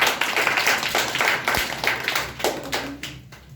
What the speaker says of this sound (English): Clap for Bhavna.